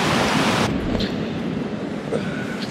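Steady broadband rush of a river flowing right beside a mountain campsite on the Caucasus crossing, loud and continuous, dropping slightly in level after the first moment and carrying on without talk.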